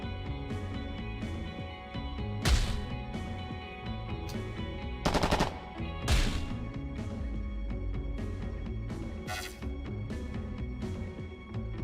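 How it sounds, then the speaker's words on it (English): Stun gun shots in the video game Long Gone Days, a few sharp, loud bursts spaced several seconds apart over a constant background music bed, with no voices. "Oh, stop with your damn stun gun."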